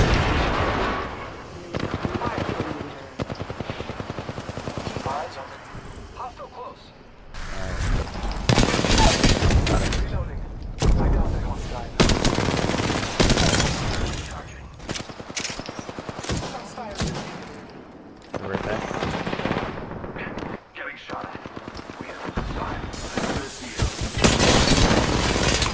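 Video game gunfire in rapid bursts of automatic shots with heavy impacts and shattering, loud and nearly continuous with brief lulls.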